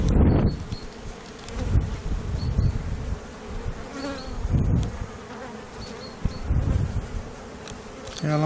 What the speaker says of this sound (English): Bit of brace comb up, bumblebee, red-tailed one, ever the opportunist,